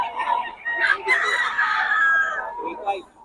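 Chickens and roosters at a poultry sale, with several clucks and a crow rising over a busy market hubbub for a few seconds.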